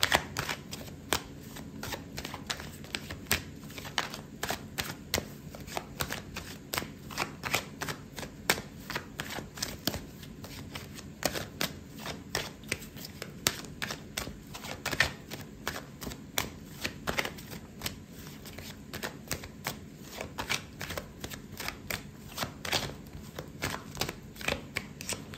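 Tarot cards being shuffled in rapid, continuous riffling bursts, close and crisp, repeating steadily for a long stretch with no talking.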